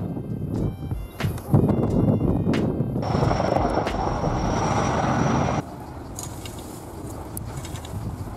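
S-64 Skycrane firefighting helicopter, able to carry up to 10,000 liters of water in an external tank, gives a loud, steady rotor and engine roar that drops to a lower, quieter drone partway through.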